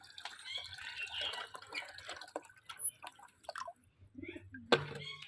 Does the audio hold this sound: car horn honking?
no